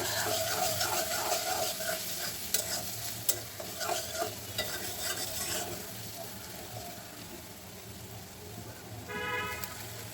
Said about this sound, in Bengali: মশলাটা কষাতে থাকবো তেলের উপরে